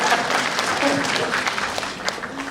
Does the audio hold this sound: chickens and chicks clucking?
no